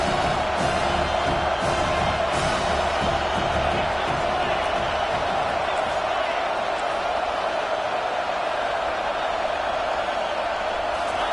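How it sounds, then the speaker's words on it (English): Stadium crowd at a football game roars steadily on a third-down defensive stand, a dense sustained cheer filling the space while a voice talks over it. "Decibels rising as the crowd gets behind this defense on 3rd down."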